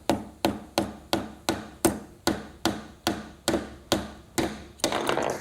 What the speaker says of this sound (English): I can take my nail and I can try and hammer it with a banana